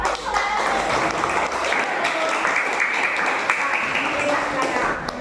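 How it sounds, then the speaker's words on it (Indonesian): A class audience applauds for about five seconds, dense steady clapping from a roomful of students that holds evenly before tapering. "Silakan tepuk tangan dulu."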